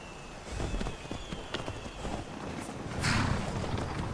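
Horse hooves clip-clop near the stables in the video game Skyrim, an uneven run of close, fairly soft hoof strikes over a faint ambient hiss.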